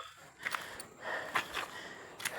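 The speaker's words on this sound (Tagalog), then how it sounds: "Hindi ko na kaya ang hingal." Heavy, breathy panting after a walk outdoors, with several audible gasping inhales and exhales in an uneven rhythm, close and moderately loud, with no talking.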